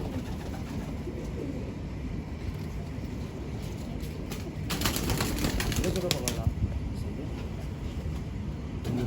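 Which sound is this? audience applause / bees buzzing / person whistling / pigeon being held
pigeon being held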